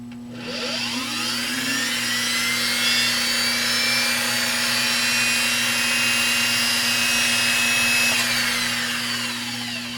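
A 1963 Singer 503a sewing machine motor, fully restored, spins up and runs with a steady, high whine and a low hum, holding constant for several seconds before starting to wind down.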